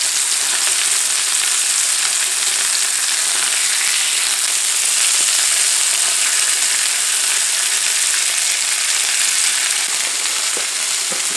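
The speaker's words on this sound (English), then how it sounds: "So you try to fry it on each side as well as it is willing to." Stuffed chicken breast frying in oil in a pan, a steady loud sizzle with dense crackle running unbroken throughout.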